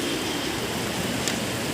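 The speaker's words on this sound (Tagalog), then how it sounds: "Oh, grabe na naman ang ulan." Heavy rain pours steadily outside during Typhoon Kristine, a dense, continuous broadband hiss that stays loud and even throughout with no voices.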